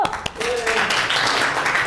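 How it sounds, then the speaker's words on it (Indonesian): Brief applause from an audience at an Indonesian coding and artificial intelligence training session, a short burst of clapping following a greeting, with some voices mixed in. "Tepuk tangan dulu."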